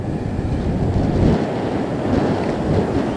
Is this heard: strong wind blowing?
yes